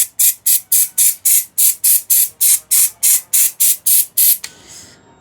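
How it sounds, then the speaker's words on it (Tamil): Rapid rhythmic bursts of a trigger spray bottle of cleaner on an old cassette player, about fourteen sharp hissing squirts in a steady run, close and loud, then a quiet tail. "நம்ம ஸ்ப்ரே பண்ணாலே ஓரளவு நல்லா க்ளீன் ஆகிடும்."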